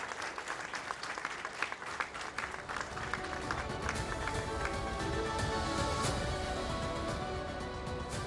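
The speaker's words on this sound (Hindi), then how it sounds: "जोरदार तालियों के साथ अभिनंदन करिए जेपी नड्डा जी का" Audience applause welcoming BJP national president JP Nadda onto the News18 Chaupal stage, a dense, steady clapping that swells and holds loud throughout with no talk over it.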